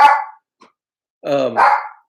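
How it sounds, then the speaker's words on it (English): A dog on a farm barks in short separate bursts: one sharp bark, a faint yip, then a longer two-part bark after a pause, close and fairly loud with silence between. "Sorry about the dog."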